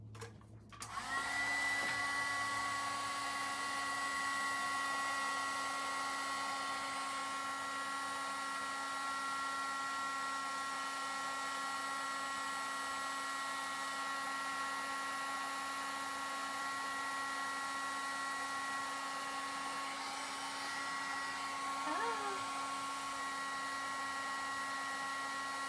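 A craft heat tool melts gold embossing powder, giving a steady close whirring blow with a fan-like hum that runs almost unbroken for over twenty seconds.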